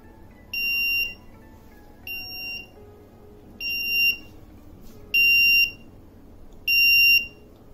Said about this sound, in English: So as you just heard,